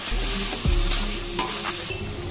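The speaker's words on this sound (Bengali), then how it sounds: "দিয়ে সমস্ত উপকরণগুলিকে আমরা ভালো করে নেড়ে ভেজে নেব যতক্ষণ না মশলার কাঁচা গন্ধটি যায়।" A steady, loud sizzle of spice paste frying with tomato in a pan for a nados fish curry, broken by a few scraping stirs and with no voices.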